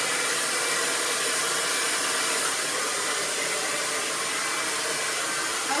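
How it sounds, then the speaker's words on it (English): A hair dryer blasts continuously and loudly while blow-drying hair after a haircut, a steady airy roar with no breaks. "I just love how this really makes a huge difference in my blow dry"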